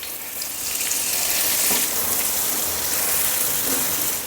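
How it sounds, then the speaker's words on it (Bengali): Turmeric-coated paneer fries in refined oil in a kadai, giving a loud, continuous sizzle and crackle close to the pan, with no speech. "এখন পনিরটা ভাজা ভাজা হয়ে গেছে"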